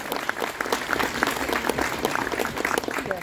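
Audience applause at a Fan Expo 2022 panel with LeVar Burton: dense, steady clapping from a large crowd that carries evenly through the whole stretch with no break.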